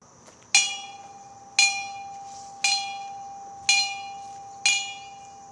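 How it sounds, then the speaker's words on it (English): A memorial bell tolls five slow, evenly spaced strokes for September 11th at a ceremony outside a historical museum, each clear ring decaying before the next, with no talk over it. "This bell ringing is so solemn."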